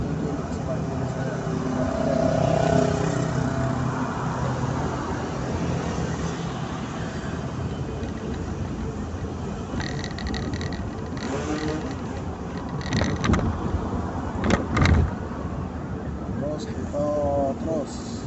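Traffic on a Palembang city street near an LRT station, a steady rumble of passing cars with a couple of louder vehicles going by toward the end, while people talk over it.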